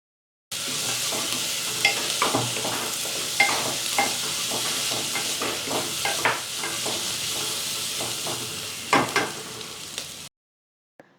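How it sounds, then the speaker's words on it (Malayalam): Sliced onions with salt sauté in a hot pan for an egg roast, a steady close sizzle broken by repeated scraping stirs of the spatula, with no talking. "അതിനുശേഷം അതിലേക്ക് സവാളയും കൂടി ചേർത്ത് നന്നായിട്ട് വഴറ്റാം."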